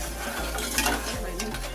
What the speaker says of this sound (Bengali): খুব ভালো করে নাড়াচাড়া করে চিনির রসটা করে নেব বা শিরাটা করে নেব।